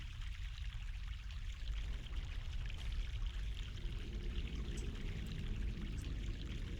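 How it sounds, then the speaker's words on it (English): Steady water pouring in The Longest Journey adventure game, a continuous rushing splash that holds at an even level throughout without any voices. "Fresh mountain water."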